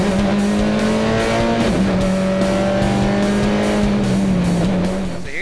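A SuperCar Lite rallycross race car with a small four-cylinder engine screams at high RPM, loud and close, with a sustained rising and falling engine tone and quick gearshift dips and no talking.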